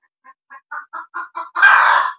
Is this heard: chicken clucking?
yes